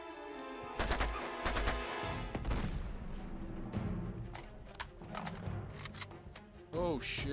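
A burst-fire weapon shoots in the action game Uncharted 2, with rapid clusters of sharp cracks early on and scattered shots afterward amid other game noise, ending with a short ringing tone.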